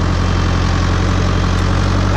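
A tractor engine with about 1,100 pounds of calcium ballast in its rear tires runs steadily on the PTO, a loud, close, continuous low throb with no change in pace.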